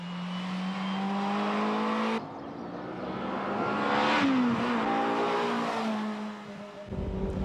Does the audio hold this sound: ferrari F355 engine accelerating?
yes